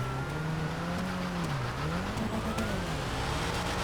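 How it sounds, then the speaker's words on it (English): A supercharged car drifting in the FiveM GTA video game, its engine note sliding up and down in a steady continuous drone, loud and close with no talking. "God, I love the sound of the supercharger in that car on this server."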